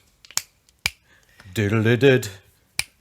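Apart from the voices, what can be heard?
finger snapping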